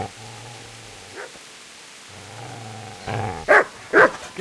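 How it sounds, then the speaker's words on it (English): A dog in the medieval video game Kingdom Come Deliverance barks sharply a few times near the end, preceded by low growling tones and softer whimpers. "Get away, you mutt!"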